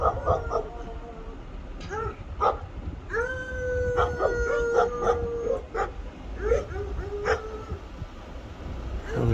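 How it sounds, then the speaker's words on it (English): Coon dogs barking and howling somewhere behind a rural back road, a chorus of drawn-out howls with sharp barks and yips scattered among them, fairly near and loud against an open outdoor background. "Some coon dogs or something back there."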